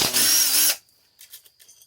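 A power tool whirs loudly for under a second while a 10 mm cylinder bolt is backed out of a Honda Rancher 350 ATV engine during teardown, followed by faint light clinks and handling sounds.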